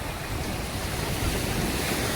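Sea waves at Miramar beach in Goa wash in with a continuous broad roar, close and loud, mixed with wind buffeting the microphone.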